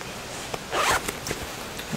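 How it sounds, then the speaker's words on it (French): An invisible zipper in the back of a simple A-line skirt is pulled in one quick, close, rasping zip, with a few small clicks and handling noises around it. "une fermeture éclair invisible"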